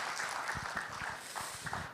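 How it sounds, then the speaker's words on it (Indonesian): A church congregation applauding together, a faint, steady wash of many hands clapping at a distance with no voices on top. "Bangkit berdiri, tepuk tangan yang keras buat Tuhan."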